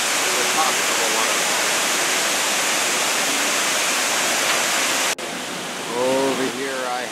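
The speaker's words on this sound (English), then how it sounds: "So this is the view from the top of the waterfall." Waterfall on a jungle trail in Argentina, a loud, dense steady roar that fills the whole clip; the level drops slightly partway through, and a person talks over the rushing water near the end.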